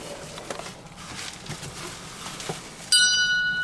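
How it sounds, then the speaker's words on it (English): After a few seconds of quiet rustling, a bell suddenly rings with a bright, sustained metallic tone that continues to the end, loud compared with the soft background. "there's that bell again"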